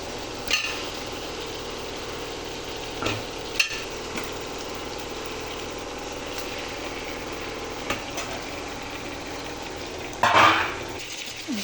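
Meat and softened tomatoes for biryani are stirred in a pot, a low steady cooking hiss broken by occasional metal knocks of the ladle and a louder scraping burst near the end.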